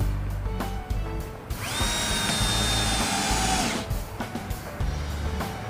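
A Bosch GSR 120-LI cordless drill drives a screw with a loud, close whine lasting a couple of seconds, framed by shorter motor bursts and clicks on either side.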